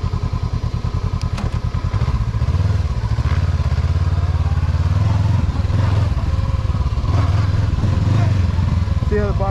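A 2022 Honda CB500X engine chugs at low speed with a jerky, lurching throttle response, a loud close rumble with thumps and surging pulses throughout, while someone talks over it.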